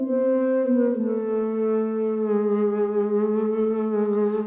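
A sustained SkyDust synthesizer tone played on an MPE keyboard, with rich harmonics, its pitch sliding and bending smoothly between notes, played alone for several seconds.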